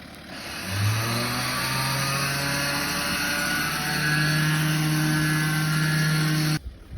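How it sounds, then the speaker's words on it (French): A Red Winches winch on a Grenadier 4x4 pays out cable fast, making a steady mechanical whine whose pitch climbs slightly for several seconds before it stops abruptly. "déroulement, il est quand même à une vitesse assez rapide, le treuil Renwick"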